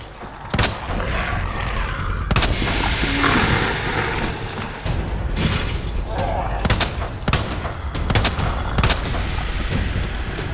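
Rapid gunfire from the Resident Evil 2 Ghost Survivors game, Sheriff Daniel Cortini mode, with repeated loud sharp shots and bursts over a constant dense roar of action and growling creatures.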